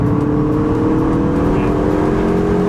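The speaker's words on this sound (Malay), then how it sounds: "Boleh layan habis bunyi blow off valve, bunyi exhaust, semua kita boleh dengar." MINI Cooper S Convertible with a 2-litre turbo engine, steady exhaust drone and engine hum heard continuously from inside the open-top car, loud and unbroken, with no clear blow-off valve burst standing out.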